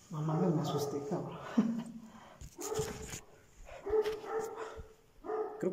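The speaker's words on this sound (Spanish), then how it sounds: "Creo que es el perro que está ladrando." Inside an abandoned, reputedly haunted house, a dog barks repeatedly in close, mid-loud bursts with short gaps, filling most of the stretch with little pause.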